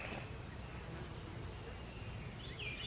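Honeybees buzzing around a beehive, a faint continuous hum with a steady tonal drone, heard outdoors with no talking.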